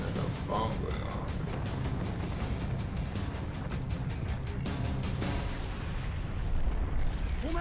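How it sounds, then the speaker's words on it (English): An Attack on Titan anime battle scene carries a sustained loud explosive roar and rumble with crackling bursts, broadband and continuous, as a bomb goes off. "There's a bomb going off."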